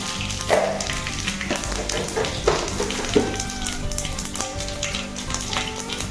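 Panch phoron spice seeds sizzle and crackle in hot oil for a snake gourd curry, a steady close frying hiss with a few sharper pops, no one talking.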